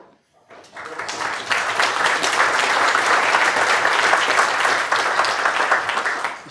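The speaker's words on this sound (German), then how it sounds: "vor den Fragen kommt der Applaus" Audience applause after a conference talk on client-side map rendering, rising quickly to a loud, full, sustained burst of many hands clapping that continues for several seconds.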